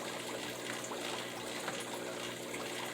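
Aquarium water is drawn out through a siphon hose during a water change in a Daphnia and Moina culture, making a continuous close hissing, gurgling trickle that stays fairly even throughout.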